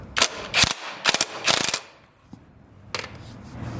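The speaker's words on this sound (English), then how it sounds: "Tighten the side stand bolt with an M17 socket." Socket wrench tightening the side stand mounting bolt on a Honda CB250F motorcycle frame, a few quick metallic ratcheting bursts close by followed by quieter single clicks, with no talking.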